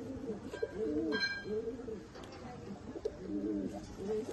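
Pigeons in a breeder's loft give repeated soft, rolling coos in a steady rhythm, near and moderately quiet, with light background noise and no talk.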